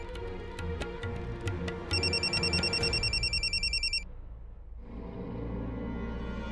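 A telephone rings in repeated electronic trills for a few seconds over background music, then stops.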